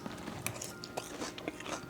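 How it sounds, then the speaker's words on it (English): Teeth bite into a traditional fried hashbrown, giving close, crisp crunches that repeat as it is chewed. "One more time, listen to that crunch."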